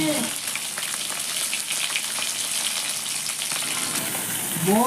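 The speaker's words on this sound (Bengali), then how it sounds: "আমার ফাইনালি মাছ ভাজা কমপ্লিট হয়ে গেছে" Fish frying in a pan gives a loud, continuous crackling sizzle that stays even from start to finish, close up and with no talk over it.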